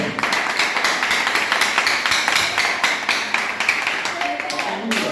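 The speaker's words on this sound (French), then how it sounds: "encore mesdames et messieurs, je vous demande de l'applaudir" Applause for the performer Renaldo Polo at an artist voting show: a crowd claps steadily and fairly loudly throughout, with voices murmuring beneath the clapping.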